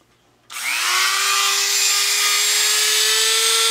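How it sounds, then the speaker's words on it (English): A small Dremel cutoff wheel spins up and grinds through banjo fret wire, a sudden high whine that starts abruptly and holds a steady, loud tone close to the microphone. "So now what I do is I'll take my little Dremel cutoff tool."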